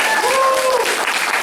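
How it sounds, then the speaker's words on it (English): An audience at a belt ceremony in a family martial arts center in Mount Dora gives a short, loud burst of clapping, with a brief voice or cheer rising over it. "Give Destiny a big round of applause."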